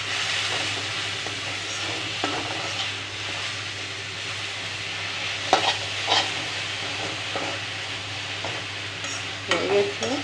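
Greens (senchi saag) fry in a pan with browned onion, chili and garlic: a continuous sizzle, broken by occasional stirring scrapes and clinks, close and moderately loud with no talking.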